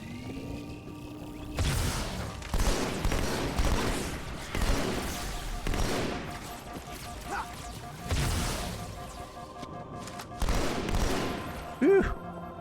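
Halo 2 combat with a plasma pistol and other gunfire: repeated loud bursts of shots in clusters, spaced roughly every one to two seconds, over a steady hum, with a bright zap near the end.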